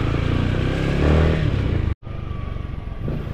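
Motorcycle engine droning steadily while riding, loud and close, with a rough clattering texture and a brief sudden cutout partway through before the engine noise resumes.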